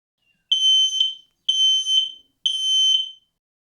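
An X-Sense Link+ wireless smoke detector sounds its test alarm: three loud, shrill electronic beeps, each about three-quarters of a second long, evenly spaced and clear against silence.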